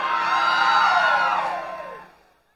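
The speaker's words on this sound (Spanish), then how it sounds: "¡Aplauso para la chica de Omar!" A crowd at a contest in Quilalí cheers and whoops loudly for a girl, many voices rising together in a sustained, close roar that tapers off near the end.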